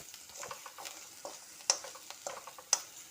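Tomato, onion, cumin and two dry red chillies frying in a pan, soft sizzling with scattered crackles and a couple of sharper pops, quiet and close, no voices.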